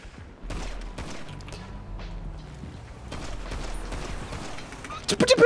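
Gunfire in GTA Online during a multiplayer job, rapid bursts of shots with a sudden loud cluster at the end, under a busy game soundscape.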